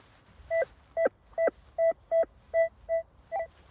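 A Rutus Atrex metal detector sounds a string of about nine short, evenly spaced electronic beeps with a clean tonal pitch, loud and close, with no talking.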